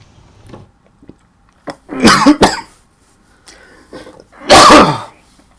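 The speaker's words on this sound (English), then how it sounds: "Got a bit of a cough this morning." Several harsh, close coughs in bursts, with two stronger fits separated by quieter rasping breaths.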